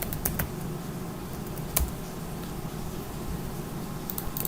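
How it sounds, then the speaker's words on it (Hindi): A few faint, sparse key clicks from a computer keyboard as a password is entered, with one sharper tap standing out against a quiet background hum. "अब मैं इस पर यहाँ पर पासवर्ड एंटर करता हूँ।"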